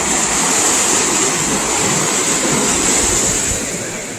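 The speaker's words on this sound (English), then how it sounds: "you probably can hear the rushing water" Rushing water of a stream running through Treviso, a loud, steady, broadband roar close by, continuous and unbroken, fading slightly at the end, with no voices.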